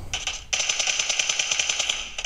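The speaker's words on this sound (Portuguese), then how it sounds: "Nossa, muito tiro, mano." Automatic gunfire in the mobile battle royale game PUBG Mobile: rapid, evenly spaced bursts of shots, loud and close, with a short pause and then a sustained stream of fire.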